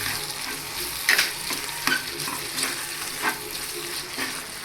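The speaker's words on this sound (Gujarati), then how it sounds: "હવે એમાં થોડાક ટમેટા એડ કરી દઈએ. જો આ ટમેટા એડ કર્યા. હવે એને આપણે ધીમી તાપે છે ને સળવા દેવાનું." Tomatoes fry over low heat for a Gujarati drumstick-leaf bhaji, under a steady close sizzle broken by several sharp scraping stirs of a spoon in the pan. No one talks.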